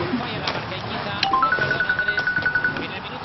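A mobile phone ringtone rings out, a short rising melody followed by a steady repeating electronic chirp pattern that runs on for a couple of seconds in a room, with people talking around it.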